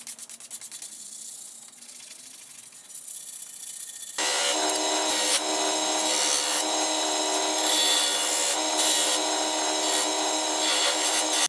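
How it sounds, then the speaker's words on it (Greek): Light hand sanding of a DIY gourd tambura with 400-grit sandpaper, a steady, close scratchy rubbing that starts faintly and grows louder and continuous partway through, with no voices. "Μόλις στεγνώσει το σίλερ, θα τρίψω ελαφρά με 400 γυαλόχαρτο."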